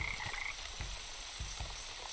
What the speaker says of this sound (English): I have some frogs down here.